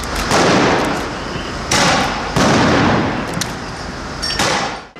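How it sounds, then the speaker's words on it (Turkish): Loud bursts of fireworks crackle and boom in several long blasts during street unrest with gas bombs, each fizzing out before the next, close and intense. "Bir yanda havai fişekler, bir yanda gaz bombaları."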